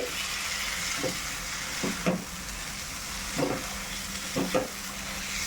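Goat mutton fries with spices over medium heat for a bhuna, giving a constant close sizzle broken by several scraping stirs of a spoon against the pan.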